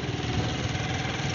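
A motorcycle engine idles steadily just after the key goes in, a close, even low rumble with no talking over it.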